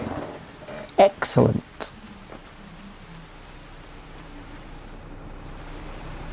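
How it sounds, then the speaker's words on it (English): Steady rain hisses in the Farming Simulator 25 video game, a constant wash of noise running throughout, with someone speaking briefly over it near the start; no distinct thunder stands out. "let's get out of the rain"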